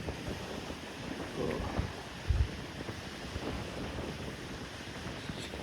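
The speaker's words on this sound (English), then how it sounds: "Wind." Steady wind buffets the microphone on the coast at Dollar Cove in Cornwall, a continuous rushing roar with faint surf beneath and a few low gusty thumps.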